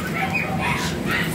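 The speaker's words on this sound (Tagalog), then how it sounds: "Uy, maingay ibon ko." Pet birds chirp noisily nearby, a busy overlapping chatter of short calls that fills the whole brief moment.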